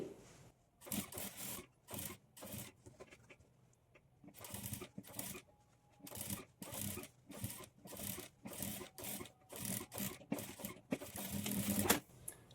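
A sewing machine stitches a Madhubala-style blouse in short, rapid bursts of clattering mechanical rattle separated by brief pauses, close by and moderately quiet.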